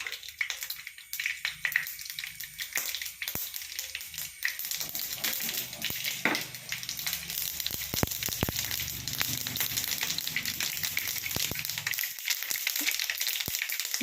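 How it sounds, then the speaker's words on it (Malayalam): Mustard seeds pop and splutter in hot oil for a Kerala-style sweet lemon pickle, a close, steady crackling sizzle broken by scattered sharp little pops, with no talk. "നമുക്ക് ആദ്യം കടുക് പൊട്ടിക്കാം"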